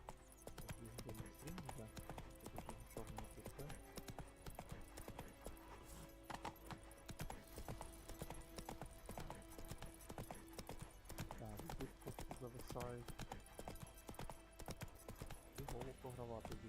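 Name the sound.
horse Roach's hooves in video game The Witcher 3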